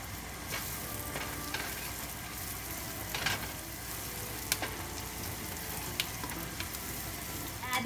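Chili and curry leaves sizzle and crackle steadily in hot frying oil, with a few sharp pops and spatters breaking through the continuous close hiss.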